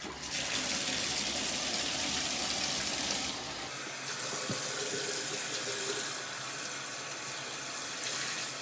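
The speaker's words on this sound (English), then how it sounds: "Now I'm going to go ahead and wash the shirt." Tap water runs steadily into a sink while a tie-dye shirt is washed under it, a loud continuous splash that briefly shifts in tone as the fabric moves through the stream.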